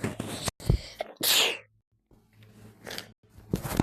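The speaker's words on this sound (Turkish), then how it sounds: "Hapşıracağım." A single sharp, forceful sneeze bursts out, preceded by a short sharp inhale and followed by some quieter breathy sounds and mouth noises.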